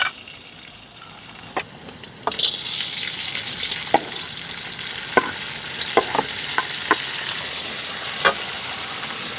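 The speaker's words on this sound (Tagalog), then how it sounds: "Gisahin ko lang siya dito sa bawang. Sili, itong" Garlic and chili sautéing in a pan outdoors for stir-fried coconut worm, a steady bright sizzle that jumps louder a couple of seconds in, with scattered spatula scrapes and clinks over the frying.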